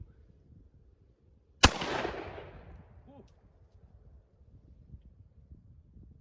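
One loud pistol shot from a Glock 29 firing 10mm 200 grain bullets outdoors: a sharp crack followed by a rolling echo that fades over a couple of seconds.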